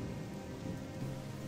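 Steady rain falls in the Gothic 2 video game, a constant close hiss of drops hitting the ground with a low rumble underneath, with no voices.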